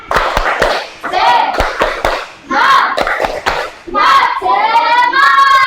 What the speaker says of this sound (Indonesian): Kita beri tepuk semangat dulu ya.